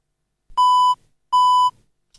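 A Penfriend audio labeller gives two identical short electronic beeps, evenly spaced and clear, each a steady pure tone about half a second long, heard alone in silence right after a button press.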